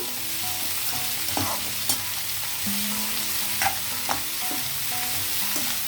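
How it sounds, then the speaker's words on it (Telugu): Ginger garlic paste frying in a pan for cauliflower fry, a steady close sizzle with occasional spoon scrapes and stirring knocks. "ఇప్పుడు ఇందులో నేను కొద్దిగా అల్లం వెల్లుల్లి పేస్ట్ వేస్తున్నానండి"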